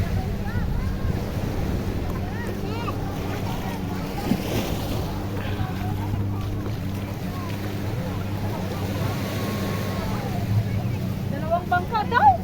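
Family boat ride on the sea at low tide, with a steady engine hum and water and wind noise rumbling throughout, and voices chatting faintly over it.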